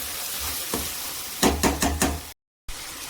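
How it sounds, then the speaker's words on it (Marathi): Chopped onion, tomato, crushed green chili and garlic sauté in oil for a dhaba-style whole masoor dish, a soft sizzle broken by a few quick knocks of a spoon stirring against the pan, with a brief silent gap. "आणि कांदा आणि टोमॅटो छान असं आपल्याला तेलामध्ये परतून घ्यायचं आहे."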